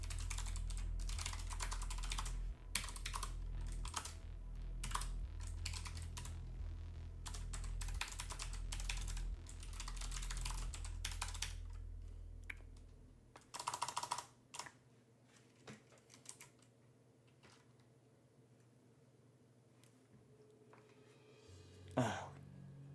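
Keys clatter on a computer keyboard in bursts of quick close-up tapping with short pauses, growing sparser toward the end, with faint low hum and a few soft handling noises.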